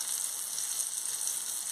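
Water boils firmly in a pot on a home stove while chicken fillets cook, giving a steady, soft bubbling hiss that runs evenly without breaks.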